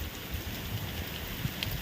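Rain pattering on a damaged tin sheet shed roof in a Botad village, a faint continuous wash of drops with soft irregular taps, distant and even, no speech.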